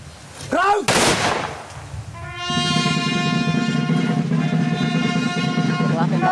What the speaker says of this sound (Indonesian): Setelah tembakan salvo dilepaskan sebagai penghormatan militer